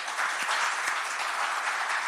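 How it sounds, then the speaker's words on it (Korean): Sustained applause from a conference audience at the opening of a pandemic and East Asia forum, a steady dense wash of clapping throughout with no talk over it. "우리와 같은 박수로 우리 스스로를 격려를 하고"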